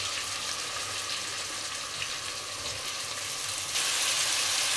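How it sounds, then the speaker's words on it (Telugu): Mushrooms and onions frying in hot oil give a steady, dense sizzle that stays loud and close throughout, growing slightly louder near the end. "ఒక 5 నిమిషాల పాటు ఇవి నూనెలో అయితే వేగనిద్దాము."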